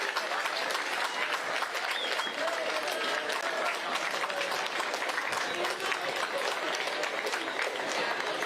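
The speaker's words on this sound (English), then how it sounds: "let's give him a nice round of applause" Sustained crowd applause at a cross country championship awards ceremony, steady and continuous throughout, moderately distant with a broad wash of clapping hands.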